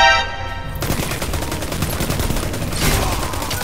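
Loud, dense gunfire in a Destiny Crucible match, with a rapid stream of close shots and heavy blasts and a shotgun among them, a brief game tone at the start and no talk.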